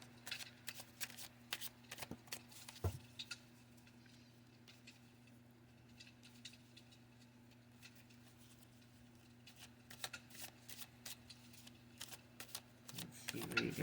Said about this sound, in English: Let's draw one card for Cancer.